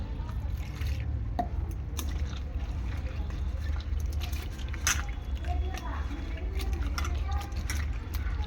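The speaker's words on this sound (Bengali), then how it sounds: "দেখো সুন্দর করে আমি ধুয়ে নিচ্ছি উচ্ছেগুলো।" Cut bitter gourd slices are swished and rinsed in a bowl of water by hand, giving soft continuous splashing and dripping close by, with someone talking over it.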